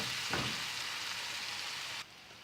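Mutton seasoned with chili powder cooks in a pan, giving a steady, close sizzle with one short stir partway through and a slight drop in level near the end.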